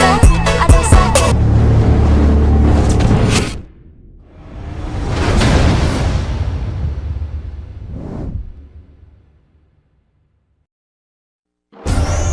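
A Sempati Star tronton bus, a Scania K410 on a road in Medan, sweeps past with a loud rising and falling whoosh of engine and tyres, following a burst of loud, busy noise and fading into near silence.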